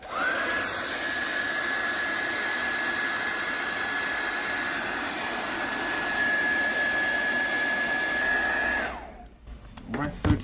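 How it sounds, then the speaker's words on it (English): A hair dryer blows hot air onto the back cover of a Huawei Y9 Prime 2019 phone, a steady close whoosh with a high whine, then cuts off near the end and leaves a few handling knocks. "We're going to apply some heat with the hair dryer."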